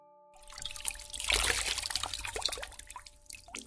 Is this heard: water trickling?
yes